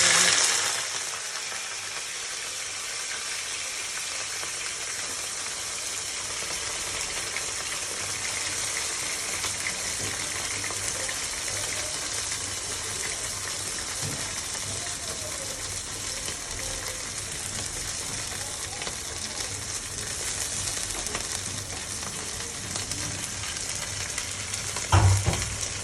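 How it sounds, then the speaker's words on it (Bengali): Eggplant sizzles loudly in hot oil in a home kitchen, a dense, continuous crackle and spatter that stays up close and steady throughout, with a few clatters of a utensil near the end. "আমি প্রথমে বেগুনটা তেলে দিয়ে দেবো।"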